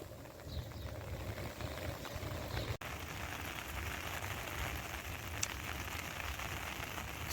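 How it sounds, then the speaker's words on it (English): Steady rain falls into a backyard swimming pool during a heavy Easter weekend storm in metro Phoenix, a continuous even hiss of drops on water with a brief click partway through and no voices. "You can see the steady rain falling in the pool."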